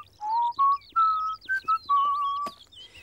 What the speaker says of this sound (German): Pfeifen ist einfach praktisch.